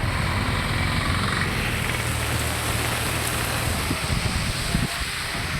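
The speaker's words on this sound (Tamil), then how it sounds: "நெல்லையில் இடி மின்னலுடன் 30 நிமிடங்களுக்கு மேலாக பெய்த கனமழையால் சாலையில் தண்ணீர் பெருக்கெடுத்து ஓடியது." Heavy rain during a thunderstorm in Tirunelveli pours down with water flowing along the road, a dense, continuous hiss and wash at steady loudness with no voices.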